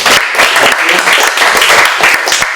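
Lecture audience at Brooklyn College applauding Professor Cano, a loud, dense burst of clapping filling the room close by.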